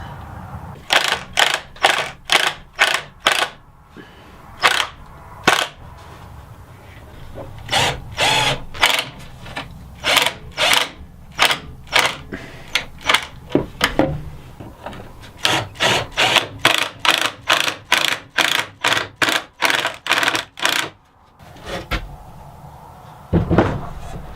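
Screws being driven into a reclaimed wooden crate frame for a toybox, heard as many short repeated bursts from a power driver. The bursts come in quick runs with brief pauses between them. They sit close and loud, with no talking.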